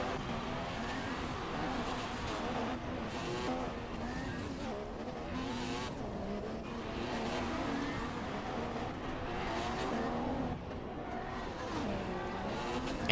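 Formula 1 race cars in the F1 2016 video game at Bahrain, with engines whining and rising and falling in pitch as they pass and shift, forming a continuous layered racing drone.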